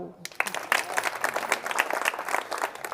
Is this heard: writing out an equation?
no